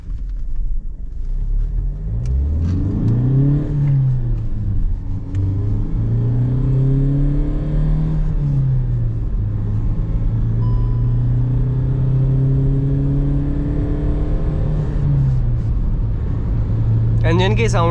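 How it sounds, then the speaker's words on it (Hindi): Kia Seltos HTK Plus diesel SUV pulls away from first gear under hard acceleration, its engine note rising and falling through several gear changes as a steady, loud cabin rumble dominates throughout. "एक बार इसको फर्स्ट से लेके थोड़ा सा हाई एक्सेलरेशन पे लेके चलेंगे, बस आप लोग इसका साउंड पिकअप वो सब ऑब्जर्व कर लेना।"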